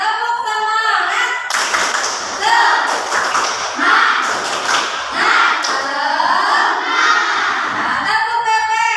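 A group of teachers in a training session does a rhythmic clapping chant, loud, close claps in patterned bursts woven together with shouted chanting voices.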